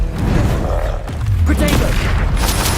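The Confringo fire spell from Hogwarts Legacy bursts with a booming, crackling blast followed by rumbling after-effects and a second sharp burst, loud and close within the game's combat noise.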